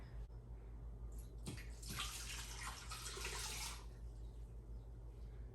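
Water pours into an Instant Pot holding corned beef, a steady splashing rush that swells for a couple of seconds and then eases off, close and fairly quiet.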